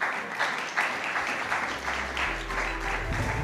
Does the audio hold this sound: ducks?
no